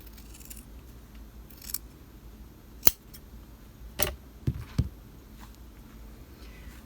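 Scissors snip through fabric while a dart is trimmed in a sewing class, a few sharp cuts clustered close by, with quiet pauses between them and no talking.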